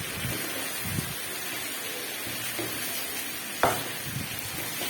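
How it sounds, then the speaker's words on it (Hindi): Garlic and ginger fry in oil for mutton karahi, giving a steady close-up sizzle broken by occasional scraping and clicking stirs of a spoon against the pan. "लहसुन अदरक डाल के 5 मिनट भूनूंगी।"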